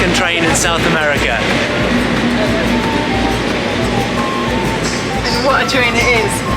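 A PeruRail train runs toward Machu Picchu, with continuous rumbling rail noise and rhythmic clattering from the wheels, heard from on board with people talking over it throughout.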